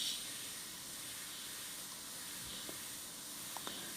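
An airbrush sprays paint in light dagger strokes on an on-and-off trigger, giving a faint, steady close hiss throughout with a few tiny clicks, no voices.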